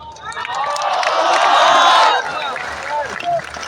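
An audience at an Islamic lecture claps in a burst that swells for about two seconds then fades, with scattered crowd voices and a brief shout afterward.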